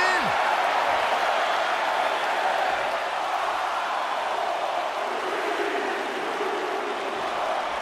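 A large video game wrestling crowd in WWE 2K19 roars and cheers steadily throughout, a dense wash of noise that stays loud from start to finish.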